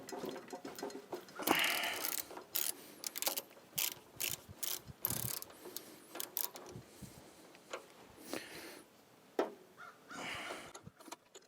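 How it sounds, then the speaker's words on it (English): A ratchet wrench loosens the spark plug on a tiller, giving bursts of rapid close clicking with short pauses and scraping handling noise in between. "let's take that spark plug out and give it a look"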